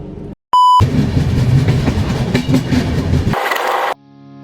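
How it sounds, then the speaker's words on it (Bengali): A short electronic tone, then the Mumbai LTT–Madgaon Express rumbles and clatters with rhythmic clicks as it begins moving, ending in a brief higher hum before cutting out. "এখনই বোধহয় ট্রেনটা ছাড়বে।"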